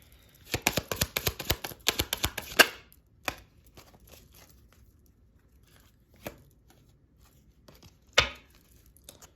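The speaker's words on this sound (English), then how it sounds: "I'll shuffle." A rapid flurry of crisp riffles as cards are shuffled for a card reading, then a single snap, followed by quiet with a few isolated taps and one sharp knock.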